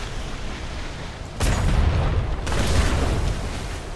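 Cannon fire from a brig in the survival game Atlas, heavy booming blasts at sea: a broad thump near 1.4 seconds with a sustained rumble, then a second boom around 2.5 seconds, loud over a noisy background.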